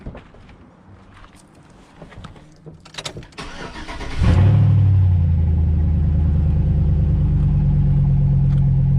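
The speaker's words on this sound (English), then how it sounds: "Now I'm gonna come around over here and actually crank the truck up." A pickup truck engine cranks and catches, then settles into a steady, loud idling rumble close by, after some faint clattering and handling noises.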